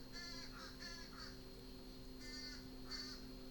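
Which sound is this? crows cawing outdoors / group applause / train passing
crows cawing outdoors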